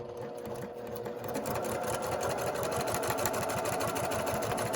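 A sewing machine runs a quarter-inch seam on quilt pieces, starting quietly for about a second, then a steady, close, rapid stitching hum to the end.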